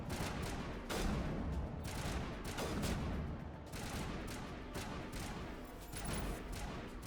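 Dense, continuous gunfire from the sci-fi shooter Mass Effect Legendary Edition, with overlapping rapid shots and blasts filling the whole stretch at steady, loud intensity.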